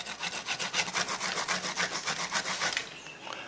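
Fresh ginger, 200 grams for an organic plant pesticide, scraped over a hand grater in steady rapid rasping strokes, close and loud, with no talking.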